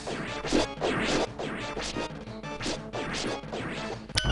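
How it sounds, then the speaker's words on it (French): A bomb blows up in Zelda Mystery of Solarus DX, giving a string of loud, crunchy game blasts and crashes in steady succession, with a final sharp hit near the end. "je peux la lancer pour qu'elle explose"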